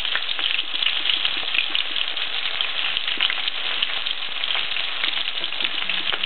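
Coconut-coated oysters frying in hot oil, a constant crackling sizzle with fine popping, close and steady throughout.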